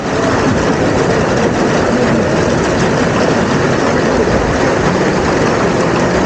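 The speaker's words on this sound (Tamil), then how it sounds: "இப்போ ஐஸ் கட்டி மழை பெஞ்சிட்ருக்குங்க கிளாஸ்லலாம் டொம்மு டொம்மு டொம்மு டொம்மு டொம்முன்னு விழுந்துகிட்டு இருக்கு" Hailstones pelting glass during a hailstorm in the Saudi Arabian desert, a loud, dense, continuous drumming roar of impacts with no letup and no voices.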